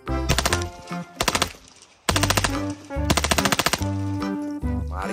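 Rapid bursts of automatic gunfire from a toy Nerf submachine gun rattle in quick strings, pausing briefly between volleys, loud and close with a mechanical clatter.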